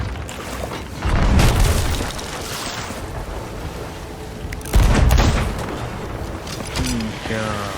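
Ship cannons boom in Sea of Thieves during a stormy fight against a skeleton galleon, two loud heavy blasts a few seconds apart over rumbling wind and sea, with muffled game noise between them.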